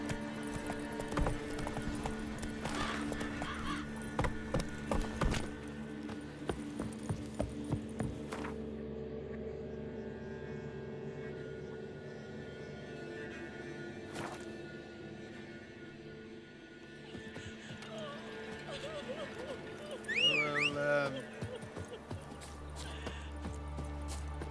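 In The Witcher 3 a horse gallops, with a rapid clip-clop of hooves over a low game-music hum and scattered effects; the hoofbeats are strongest early and fade in later.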